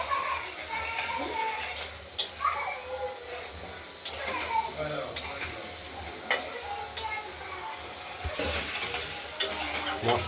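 Spice paste of ground masala frying in oil for a potato, tomato and paneer curry, with repeated scraping stir strokes and clicks over a low sizzle; no speech.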